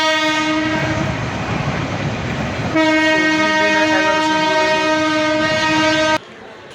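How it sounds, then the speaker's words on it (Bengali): A train at Joydebpur railway junction station in Bangladesh sounds a loud, sustained horn that changes pitch partway through and then cuts off abruptly, with rumbling rail noise underneath. "Joydebpur railway junction station."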